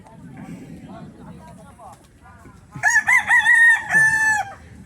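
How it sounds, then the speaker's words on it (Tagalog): Chickens and a rooster at a backyard coop in the Philippines, with soft clucking and murmurs at first, then a loud, close rooster crow that rings out over the last two seconds. "Daming mga manok ni Krishna dito"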